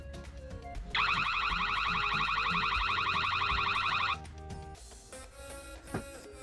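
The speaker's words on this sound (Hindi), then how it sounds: "इसका जो ये सायरन वाला फीचर है, ये बहुत अच्छा फीचर है और ये प्रॉपरली अच्छा वर्क करता है।" A Xiaomi IMILab EC3 outdoor security camera sounds its siren alarm, a loud, fast warbling wail that starts abruptly, holds steady for about three seconds, then cuts off, leaving faint background noise and clatter.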